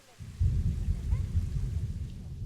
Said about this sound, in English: It is absolutely pouring rain.